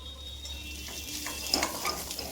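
Ingredients roasting in a pan, a soft low sizzle with a few light stirring scrapes and small clinks near the end, close but quiet, no voices.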